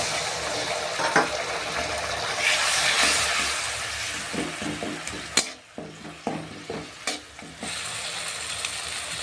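Bengali-style rohu fish curry masala, with its oil already separated, sizzles loudly in the pan as a little water is poured in. Stirring and scraping clatter in bursts over the steady frying hiss, with no talking.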